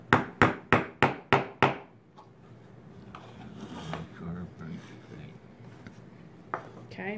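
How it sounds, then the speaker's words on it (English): A hammer taps small nails into a miniature wooden dollhouse outhouse with six quick, sharp, evenly spaced knocks close to the microphone. Quieter handling sounds and talk follow. "and then tap them in the rest of the way"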